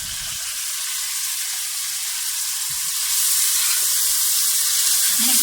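Chicken fries with yogurt in a pan, giving a continuous bright sizzling hiss that swells a little louder partway through, steady and close with no voices.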